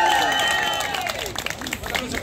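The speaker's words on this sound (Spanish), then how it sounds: "Fuerte aplauso para Lea Romero." Outdoor plaza audience applauding a tango dancer, a short stretch of dense clapping that eases slightly toward the end, mixed with whistles and background chatter.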